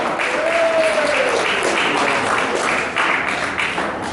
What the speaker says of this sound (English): Let's have a nice round of applause for Sara.